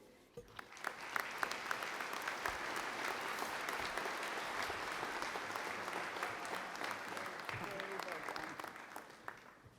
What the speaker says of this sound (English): Let's have another round of applause for Mike.